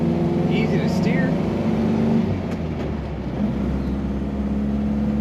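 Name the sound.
1960 Nash Metropolitan Series IV car engine running while driving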